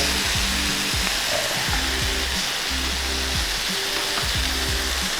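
Browned meat sizzles steadily in a hot pan just after being flipped, a loud, close, continuous hiss with a rhythmic low knocking running underneath and no voices.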